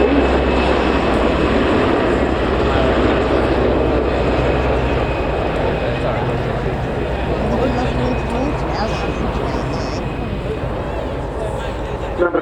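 Display jets fly past in formation at the RIAT airshow, a loud continuous engine roar that fills the whole stretch and eases slightly toward the end, heard from the crowd line.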